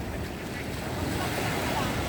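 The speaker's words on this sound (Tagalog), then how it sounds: "Ang lalaki ng alon dun" Big ocean waves roll in at a beach resort in Bolinao, Pangasinan, Philippines, as a steady wash of surf with wind buffeting the microphone throughout.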